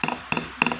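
Three sharp metallic hammer taps, evenly spaced and close, as metal is punched over set stones in a jewelry piece, each followed by quick bouncing ticks and a faint ring.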